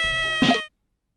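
A cat meows once in the Hey! Pikmin video game on the Nintendo 3DS, a short bright in-game cry over a sustained musical tone that cuts off abruptly into silence.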